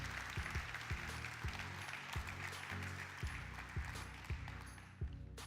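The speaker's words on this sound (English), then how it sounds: "Round of applause for Dave." An audience applauds a man named Dave at a talk on sustainability, with even, fairly faint clapping that goes on steadily under a low, regular thumping rhythm.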